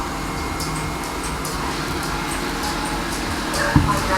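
A yeedi 3-in-1 self-emptying robot mop vacuum runs at max plus suction with a steady, loud whooshing drone and a brief bump near the end.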